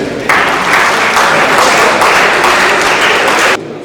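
Sustained applause from a large crowd starts abruptly, holds at full strength for several seconds, then cuts off sharply.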